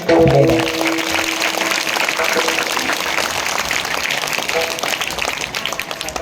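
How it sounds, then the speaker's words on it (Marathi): An audience at a kirtan in Bhalegaon Bazar applauding, a dense continuous clatter of many hands clapping together with a brief tone at the start and voices faintly underneath. "म्हणून टाळी वाजवली पाहिजे."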